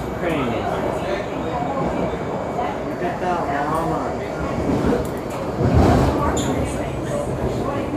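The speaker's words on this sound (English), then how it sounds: "the orange train that goes to the airport" Orange-line Miami metro train heading to the airport, with a continuous rumbling ride noise and faint wheel squeals, heard from on board with voices talking over it.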